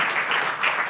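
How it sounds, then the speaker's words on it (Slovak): Audience at a talk on energy communities applauding a speaker, a brief dense burst of clapping from many hands in a hall. "Veľký potlesk pre pána Ondka."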